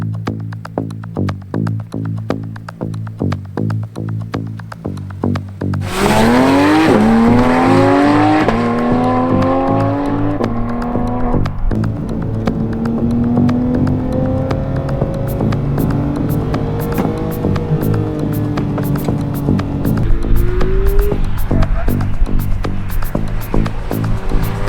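Porsche 911 GT3 991.2 with PDK dual-clutch gearbox on a race track, heard from inside: a steady throbbing idle, then a loud rising howl through quick upshifts, sustained high-revving runs and further gear changes, with no talk.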